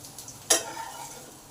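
Potatoes fry in oil in a pan as a spatula stirs them, giving one brief scraping burst over a soft, steady sizzle that continues quietly afterward.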